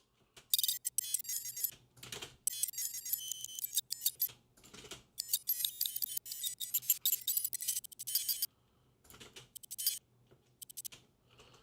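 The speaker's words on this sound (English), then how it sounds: "It is kind of an art to find something that sounds glitchy, but isn't like grating on the air." A glitchy digital sound effect plays back in choppy, stuttering bursts of bright, buzzy, high-pitched chirps, broken up by abrupt silent gaps, close and moderately loud, with no talking.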